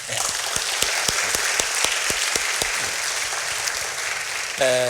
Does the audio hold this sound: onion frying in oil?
no